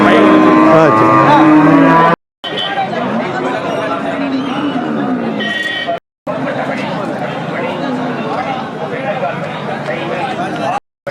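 Cattle at Melapalayam cattle market, an outdoor livestock fair, with a dense crowd of voices talking and calling over a continuous din, possible lowing blended into the chatter, briefly cut by short gaps.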